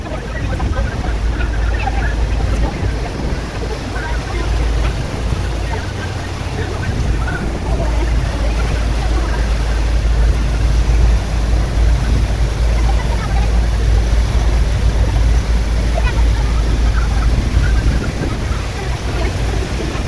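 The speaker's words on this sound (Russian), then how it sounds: "Мы приехали на такой вот лодке." A boat crosses Lake Titicaca near Puno, Peru, with a steady, loud engine drone and water rush running for the whole stretch. Low rumble and wind buffeting sit on top, with no clear breaks.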